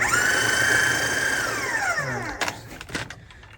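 A blender pulses fire-roasted salsa verde with its lid clamped down, a loud whirring motor that holds steady and then winds down, with a couple of sharp knocks and rattles at the end.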